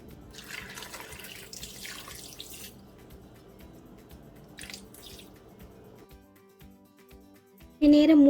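Water splashes and trickles into a cooking pot holding stingray pieces with turmeric powder and salt, running for a few seconds before fading, with a speaking voice nearby and a sudden loud tone at the end.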